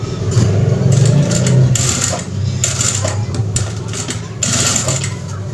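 A sewing machine stitching a kurta sleeve, a close, steady mechanical whirring with brief pauses and faster bursts of stitching.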